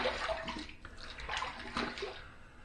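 Running water splashes steadily as a Parker 96R safety razor is rinsed between shaving passes, a close, continuous wash at a sink with uneven surges.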